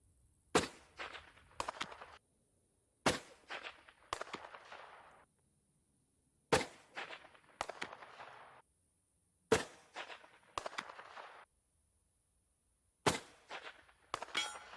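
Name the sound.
rifle shots fired at a target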